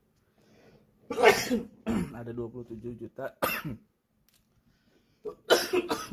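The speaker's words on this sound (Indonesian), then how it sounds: "sorry agak batuk" A few sharp coughs break up a person's speech, one burst before talking and another after a pause, close and fairly loud.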